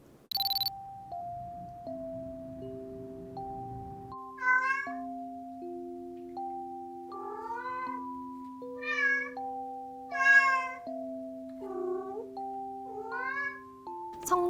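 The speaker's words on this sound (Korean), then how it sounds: "이런 거를 트릴링이라고 하는데 고양이들이 친구들과 놀고 싶을 때 나 여기 있어 라고 얘기할 때 내는 소리예요." A house cat trills and chirps several times at night, short rolling vocal sounds close by, heard over a melodic electronic chime tune that plays throughout.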